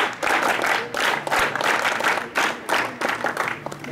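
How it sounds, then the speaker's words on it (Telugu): An audience applauds at a school scout initiation ceremony, with bursts of clapping rising and falling in waves that fill the space, loud and close. "Claps go."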